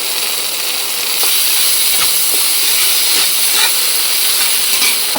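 Chopped tomatoes and ginger garlic paste fry in hot oil with a loud, steady sizzling hiss that holds throughout, close up and alone.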